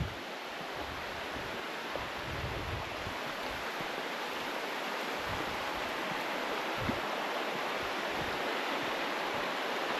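Broadband rushing of a river beside the Fall Creek hiking trail, a continuous close wash of water holding steady throughout with no talk.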